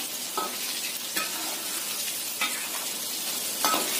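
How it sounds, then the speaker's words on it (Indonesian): Tofu fries in hot oil over medium to low heat with a steady, close sizzle, broken by a few soft stirring scrapes as the pieces are turned. "Setelah minyaknya panas, kita goreng tahu sampai kering ya, sampai matang."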